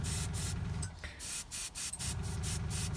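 An airbrush sprays paint onto a model Ogryn bust in short, rhythmic bursts of close hiss separated by brief pauses, spitting slightly from debris caught in the nozzle.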